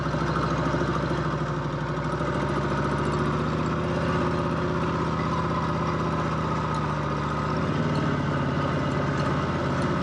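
A 1954 Harley-Davidson KH 750 motorcycle engine running at low speed in first gear, a loud, close, steady throb with a pulsing low exhaust note and a slight pitch dip toward the end, no talk over it.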